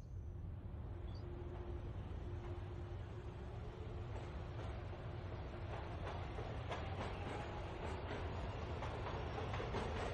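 A train in a horror video game rumbles steadily with a faint rhythmic clatter and a thin whine, continuous and quiet, with no voices over it.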